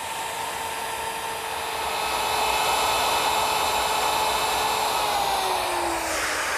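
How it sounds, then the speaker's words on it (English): A woodworking router with a ball-bearing chamfering bit whines at high speed, loud and close, as it cuts a chamfer along a wooden bench part, the tone dipping slightly near the end as it spins down. "I'm going to use a router with a chamfering bit that has a ball bearing guide."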